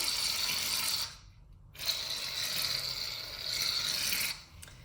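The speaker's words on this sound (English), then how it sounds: "you start squirting your shaving cream onto your tray" Shaving cream sprays from an aerosol can onto a tray in two long hissing bursts separated by a short pause, close and fairly quiet, with no voices.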